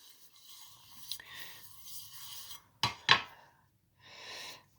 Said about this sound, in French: je viens disposer mes pommes de terre